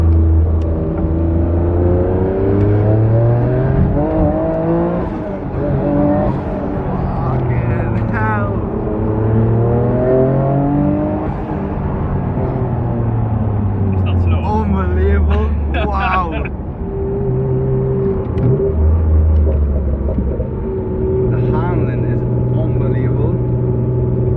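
A 500bhp Noble GT3R's 3-litre V6 revs repeatedly during a ride along, its engine note rising and falling through gear changes, loud and close, with people talking over it throughout.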